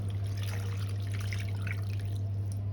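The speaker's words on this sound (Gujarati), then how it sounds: "એમાં હું પાણી એડ કરી દઈશ." Steady running water trickles and splashes into a vessel holding tamarind and dates, a continuous close stream with a low hum beneath it.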